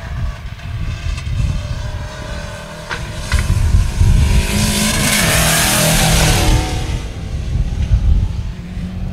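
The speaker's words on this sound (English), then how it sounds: "It sounds like he's possibly got some manifold issues in the Subaru there." Subaru rally car with a suspected exhaust manifold fault, roaring past on a Border Counties rally stage, its engine loud and close, rising to a sustained revving peak mid-pass, then fading slightly.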